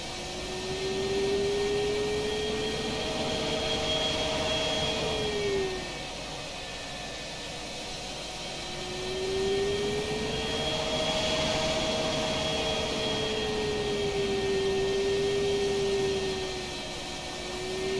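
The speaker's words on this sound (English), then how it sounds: "I'm going to jump outside and let you listen to the legacy sounds that came with the aircraft" Legacy jet engine sound set of a Lockheed TF-104G Starfighter in Microsoft Flight Simulator 2020, heard from outside the aircraft: a steady roaring whine with a sweeping tone that rises and falls in slow waves as the view pans.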